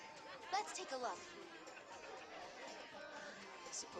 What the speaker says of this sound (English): That's quite a crowd over there.